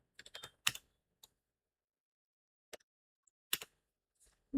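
Sparse keystrokes on a computer keyboard while code is typed, a quick cluster of clicks at the start followed by isolated taps separated by near silence, close and fairly quiet.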